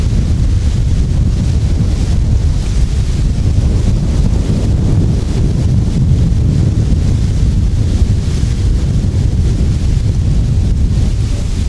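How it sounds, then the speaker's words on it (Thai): Strong wind roaring across a microphone at an open kite flying field, a loud continuous rumble and buffeting with no other sounds emerging. "น่าจะได้ยินแต่เสียงลมไม่ได้ยินเสียงว่าวหรอก"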